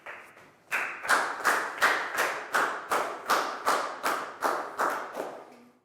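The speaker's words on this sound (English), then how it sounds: "High five and a big round of applause for Lakgao, please, guys." Primary school students in a classroom clap together in a steady, rhythmic run of about a dozen firm, evenly spaced claps, close and clear with no talk.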